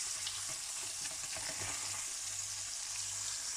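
Trout sizzles in a hot frying pan with a dense, continuous crackle and spatter, close and fairly loud, with no one talking.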